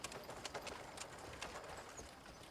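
Horse hooves clip-clopping in the video game Crimson Desert, a quiet, irregular patter of hoof strikes under faint ambient noise.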